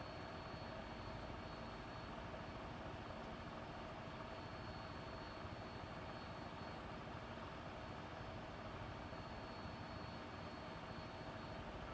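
A Vertibird aircraft flies overhead in the video game Fallout 4, a steady droning engine roar that holds constant at moderate level with no voices.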